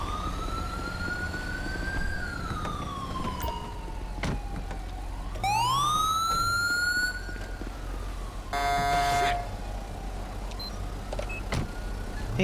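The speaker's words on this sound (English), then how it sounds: "Ambulance." An ambulance siren in Grand Theft Auto V wails with rising and falling sweeps, broken by a quick yelp burst, over a low steady engine hum.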